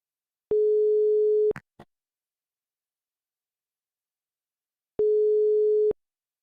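Telephone busy tone after dialing a number, two steady one-second beeps spaced several seconds apart, with a couple of faint clicks after the first.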